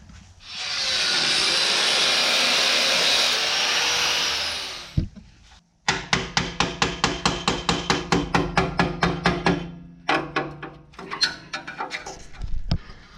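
Tools at work removing the exhaust muffler from a Porsche 996: a long steady hiss, then a rapid run of sharp, evenly spaced mechanical clacks, followed by a few more scattered bursts of clicking close by.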